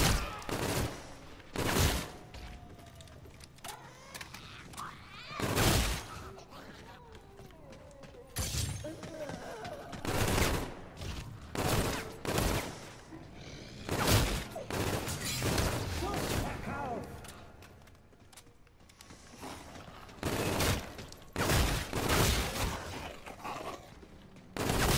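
Gunfire in the zombie mode of the video game Call of Duty Infinite Warfare, with repeated bursts of shots and sharp bangs scattered across a busy, uneven stretch of game noise.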